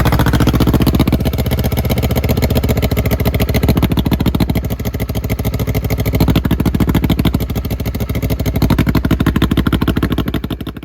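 A 2010 Kawasaki Ninja 250R motorcycle runs with a loud, steady, rapid exhaust putter that rises and falls slightly throughout, close up, with no talking.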